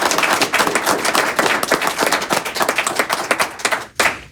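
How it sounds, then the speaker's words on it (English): An audience at an evening talk breaks into a burst of dense, close applause that fades briefly before a final flurry of claps. "Let's give them all a big round of applause."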